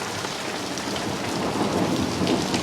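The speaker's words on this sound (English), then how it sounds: "Thunder again." Rain falling steadily during a thunderstorm in Dumfries, a dense hiss of drops close by, with a low rumble of thunder swelling slightly toward the end.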